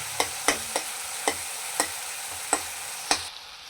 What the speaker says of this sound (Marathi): चांगलं असं तेल सुटेपर्यंत त्याला आपण परतायचं